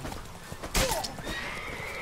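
Horses neigh in a short burst amid a bandit skirmish in the video game Witcher 3, the whinny standing out mid-clip over a steady background of game ambience and faint hooves clip-clopping.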